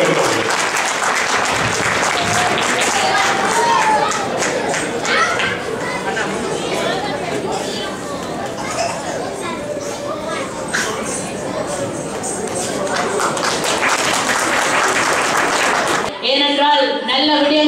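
A large crowd applauds loudly and steadily for about sixteen seconds, with cheering voices mixed in, before it stops and a voice begins.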